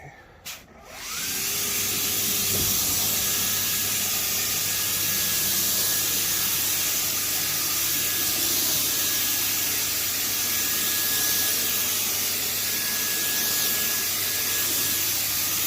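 Cleaning solution sprayed heavily onto urine-stained carpet, a continuous loud hiss of pressurized spray with a steady machine hum underneath, starting after a brief clatter and running unbroken.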